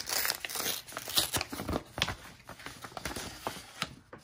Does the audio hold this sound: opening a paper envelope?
yes